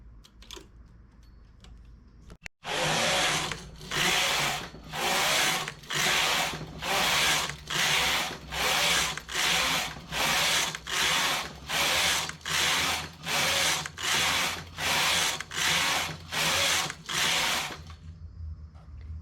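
A domestic knitting machine, set to a reduced tension, knits a 20-row band in a contrasting yarn colour. The carriage sweeps back and forth in about sixteen even, loud, whooshing passes, steady and close, with no talk.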